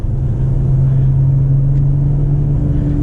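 A car engine rumbles loudly and steadily from inside the cabin with a deep, smooth hum, sounding richer than a BMW, with no talking over it.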